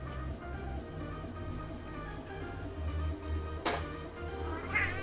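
A house cat meows indoors during a sewing session, a few close, drawn-out calls over a low steady hum.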